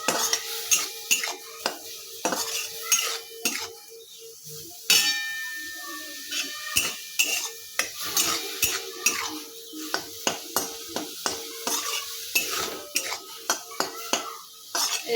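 Snail pieces and their water cook in a dry pan with a little turmeric, stirred steadily so that a utensil scrapes and clinks against the metal in a constant rhythm over a faint sizzle.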